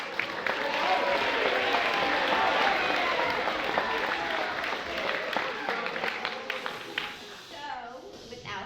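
Sustained audience applause fills the room after thanks to the audiovisual crew at a talk, dense clapping holding steady and loud before thinning and fading near the end.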